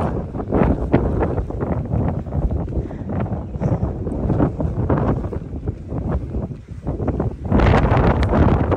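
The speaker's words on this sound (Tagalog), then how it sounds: "Hangin." Steady wind buffeting the microphone high on a mountain cliff at Tung Lung Chau, with a low rumbling roar that holds throughout and gusts louder near the end.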